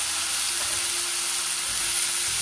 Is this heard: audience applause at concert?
no